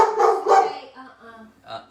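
A dog barks a couple of times inside a house where lasagna is being cooked, the sharp yips close and loud, then fading into softer whimpering sounds.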